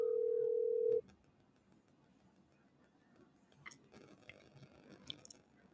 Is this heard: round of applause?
no